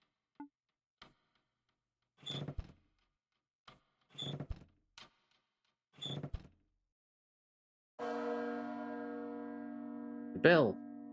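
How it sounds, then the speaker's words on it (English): Bell ringing in the Small Saga video game: a few short mechanical clunks and knocks, then a single bell tone that rings out and sustains near the end, without talk. "The bell!"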